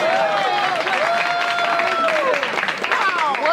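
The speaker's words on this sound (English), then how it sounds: "What are you cheering for?" A studio audience cheers and applauds in a dense, loud burst of clapping with whoops and shouts layered over it, lasting the whole moment.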